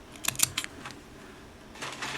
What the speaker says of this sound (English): just cut the whole strand of yarn like that